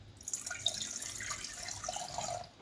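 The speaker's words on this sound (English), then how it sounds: "There's a little bit too much water here, so I'm just gonna take a little bit out." Excess water poured out of a Thermomix TM5 bowl while preparing rice, a steady trickling splash running close and clear for a few seconds, ending in a sharp knock.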